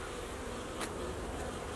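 Dense buzzing of many honey bees around an open flow hive with brood frames, a continuous close, full drone with a couple of brief louder passes, no talk.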